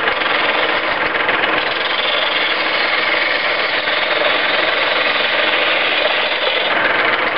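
Wood spinning on a lathe and cut with a smaller gouge gives a continuous, loud, rough scraping and grinding roar. The sound holds steady the whole way through, close up and with no talking.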